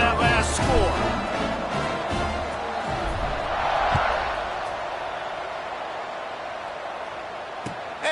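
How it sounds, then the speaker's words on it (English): Stadium crowd at a football game, a steady broad buzz of many voices throughout, swelling briefly midway, with an announcer-like voice talking over it at the start. "this crowd is buzzing after that last score"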